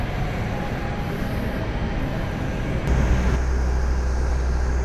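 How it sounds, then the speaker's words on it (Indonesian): The Argo Wilis passenger train departs towards Bandung, a loud, close, steady rumble of the train rolling past, deepening into a heavier low drone midway, with no talk. "bersamaan dengan keberangkatan kereta Argo Wilis menuju ke Bandung"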